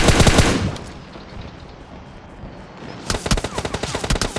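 Gunfire in the mobile battle-royale game PUBG Mobile: a loud burst of rapid automatic shots opens, a quieter lull follows, then another fast, rhythmic volley of shots closes.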